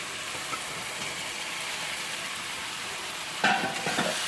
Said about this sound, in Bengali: এই তার সাথে অল্প একটু নেড়ে নিলাম, চালিয়ে দিলাম